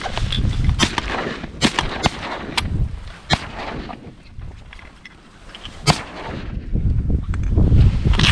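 Shotgun blasts ring out while duck hunting outdoors, several sharp separate shots spaced irregularly over wind and boat or water noise, some loud and close and others fainter.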